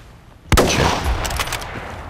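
A single sharp gunshot from an L96A1 sniper rifle in the video game Battlefield Play4Free, a loud close crack followed by a lingering echoing tail with faint scattered distant shots behind it.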